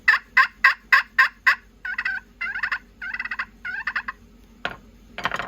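A pot-style turkey call, the kind with a copper surface, run by hand into a string of loud, raspy hen yelps: six sharp strokes in steady rhythm, then a looser, softer run of yelps. A couple of scratchy friction sounds close it out.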